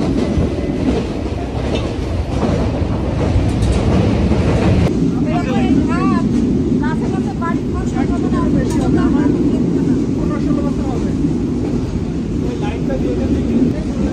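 A moving train rumbles and clatters steadily along the rails throughout, loud and close from inside the carriage, with passengers talking over it.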